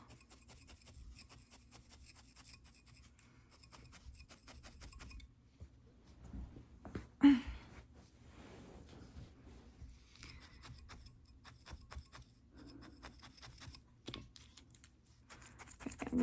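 A felting needle stabs repeatedly into wool in a quiet room, giving faint, rapid, uneven scratchy taps with no talk.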